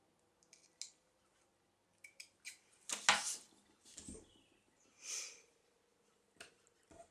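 Scissors make a few faint, sparse snips and crisp rustles while paper is cut for a collage, heard close in an otherwise quiet room.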